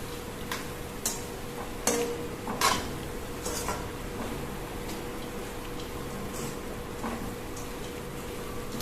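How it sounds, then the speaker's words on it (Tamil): Coconut burfi mixture with roasted cashews being stirred in a pan, giving scattered scraping and clinking strokes of a utensil against metal over a low steady background, with no talking. "அடுத்தது வறுத்து வச்ச முந்திரி பருப்பையும் சேர்த்து நல்லா கிளறிக்கணும்."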